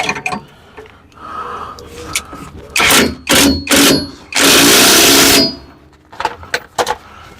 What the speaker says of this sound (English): let's ratchet this bad boy up